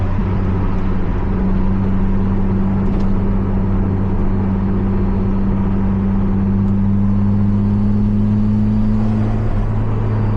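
A Toyota MR2 Spyder engine hums steadily and loudly from inside the car as light throttle is applied, a constant drone with a gently rising tone and no talk.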